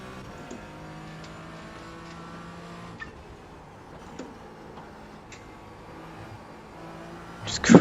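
Race car engine in a sim racing game at Virginia International Raceway, held at a steady drone on partial throttle with faint ticking, swelling into a louder burst at the very end.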